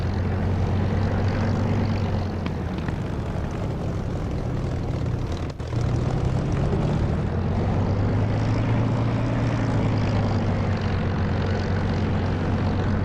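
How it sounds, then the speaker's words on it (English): A propeller aircraft engine in the DCS flight simulator game drones steadily with the canopy open, a loud continuous low throb with a slowly wavering pitch and a brief dip midway, with no talking. "it's a much nicer engine sound, especially when you're flying with a canopy open"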